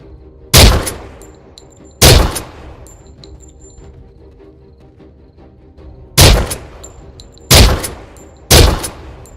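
Gunfire in the VR zombie shooter Surv1v3, five loud, sharp single shots spaced irregularly, each with a short ringing decay over a quiet background hum.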